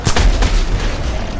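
A grenade blast in the Dead Island Epidemic video game booms loud and close, with deep rumbling low-end energy that holds through the short clip.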